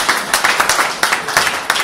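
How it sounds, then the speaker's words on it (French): A brief burst of applause at an evangelical church service, scattered hand claps forming a steady patter that fills the moment, with no talking over it. "Applaudissons pour la gloire de Dieu."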